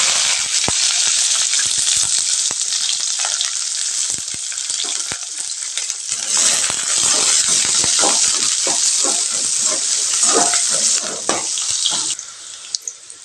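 Chopped onion, green chili and curry leaves frying in hot oil after mustard seeds have popped: a loud, steady, close sizzle with scattered crackles and pops throughout, alone with no talk.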